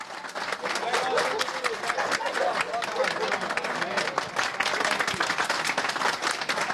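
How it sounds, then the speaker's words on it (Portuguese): Residents applaud firefighters during a period of isolation, producing sustained dense clapping from many hands, with mixed voices and crowd noise beneath. "Olha os aplausos."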